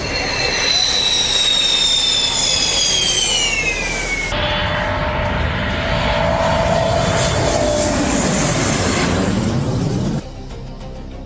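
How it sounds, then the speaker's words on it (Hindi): Indian Air Force fighter jets roar over a national highway in Assam, a loud jet whine sweeping down in pitch as one passes close, followed by another rising and fading roar. "भारतीय वायुसेना के कई लड़ाकू विमानों ने असम के एक नेशनल हाईवे पर अपनी ताकत दिखाई"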